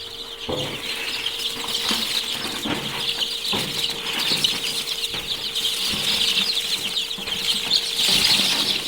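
Many poultry chicks cheep constantly in a dense, high-pitched chorus, with occasional knocks and rustling nearby and a faint steady hum underneath.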